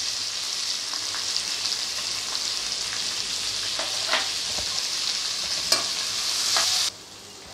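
Onions frying in oil for a ridge gourd masala gravy, a steady bright sizzle with occasional stirring scrapes and pops, close and continuous, dropping off abruptly near the end.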